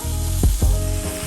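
Chuck roast sears in hot oil in a pan, set down on its second side under a steak weight: a steady, close, loud sizzle with two brief low thumps of handling near the start, and no talk.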